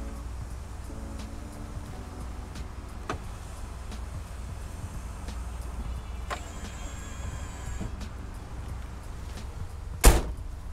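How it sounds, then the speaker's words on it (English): Power windows on a 1966 Chrysler 300 convertible whir down, with a steady motor drone running through the clip and a sharp thunk near the end; no one talks. "all the windows do operate, so you can put down the rears"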